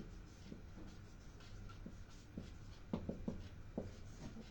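Pen or pencil scratches softly across paper while a math problem on a function's range is worked out, faint intermittent strokes that grow a little busier toward the end, with no talk.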